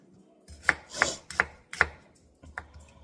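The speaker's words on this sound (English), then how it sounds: "All right, so let's chop up this other half" An onion half being chopped on a board: about five crisp knife strikes in an uneven rhythm, close and clear, with no talking.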